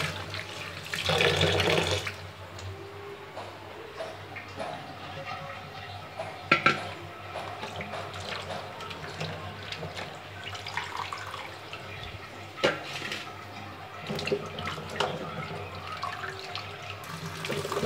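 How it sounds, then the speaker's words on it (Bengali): Malabar spinach leaves being washed under a running kitchen tap: rushing water comes in short bursts and a steady trickle, with occasional clinks of a pot or bowl nearby. "এইভাবে আমি 2 বার ধুয়ে নিব"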